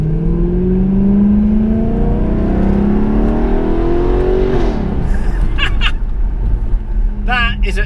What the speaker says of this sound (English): You just don't get silly V8s like this anymore.